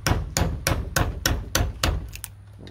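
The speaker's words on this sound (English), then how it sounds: "nothing like a good old chisel." A chisel is struck with a hammer on a hickory ridge beam: seven sharp, evenly spaced blows, close and loud, with two lighter taps trailing off at the end.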